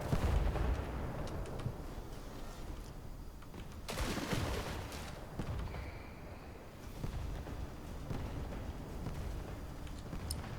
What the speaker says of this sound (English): I kind of wish they would turn up the volume a bit for the reports on these guns